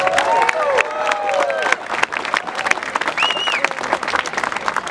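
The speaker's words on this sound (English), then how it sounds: "let's all round of applause for Rachel Parent" A crowd at an outdoor anti-Monsanto rally in Toronto applauds Rachel Parent, with dense clapping, some cheering and whistle-like tones, and a few voices mixed in.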